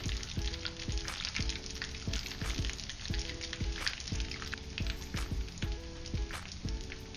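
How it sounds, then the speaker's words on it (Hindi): Aloo tikki patties frying in oil in a pan, a steady close sizzle with crackling pops and occasional scraping of a spatula, no voices. "टिक्कियाँ हमारी अच्छे से फ्राई हो चुकी हैं"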